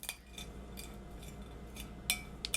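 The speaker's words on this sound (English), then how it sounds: "I have dried porcini mushrooms and I'm going to break them up with a spoon until they are in a powdered state" A spoon crushes dried porcini mushrooms into powder, making quiet, irregular clinks and scrapes with a couple of sharper taps near the end and no talk.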